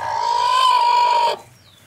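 A brooding hen sitting on fifteen guineafowl eggs gives one loud, drawn-out tonal call lasting over a second, close by, then it stops abruptly.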